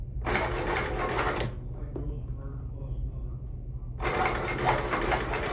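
Sewing machine stitching across the front of a fabric shoulder bag, a steady close whir in two bursts with a short pause between, while a person talks over it.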